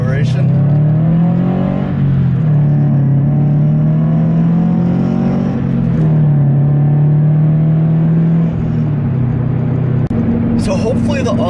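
Cabin view of a Subaru BRZ accelerating on tires that make heavy road noise, a steady loud engine drone rising and dipping slightly over several seconds, with a sharp click near the end.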